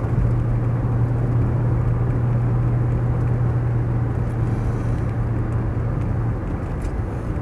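Mercedes 280CE automatic car driving on the road, heard from inside as a steady, loud engine drone with road and tyre rumble and a constant low hum, no talk.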